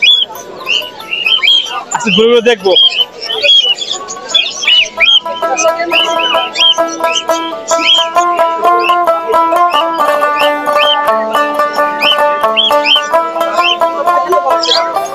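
Caged birds at the Mirpur-1 bird market in Dhaka squawk and chirp continuously, loud and dense, while people talk nearby and a steady tonal layer runs beneath the calls.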